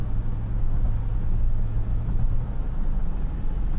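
Toyota Land Cruiser VX 4.6 L from 2010, heard from inside the cabin as a steady, loud low engine drone with road rumble under hard acceleration, with no talking.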